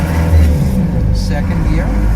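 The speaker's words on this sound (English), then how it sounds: "let's take off again, first gear" A 1989 Land Rover Defender 110 Perentie 4x4 pulls away in first gear on a town road, its low engine drone rising slightly under someone talking.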